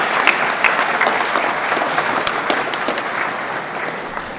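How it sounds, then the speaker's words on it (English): Applause for the 2017 mechanical engineering graduates at a graduation ceremony, a sustained crowd clapping with scattered sharper claps standing out, moderately loud and continuous throughout. "let's have one gigantic round of applause for all the graduates of 2017"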